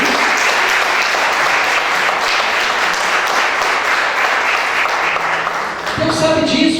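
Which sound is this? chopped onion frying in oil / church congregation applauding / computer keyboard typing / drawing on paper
church congregation applauding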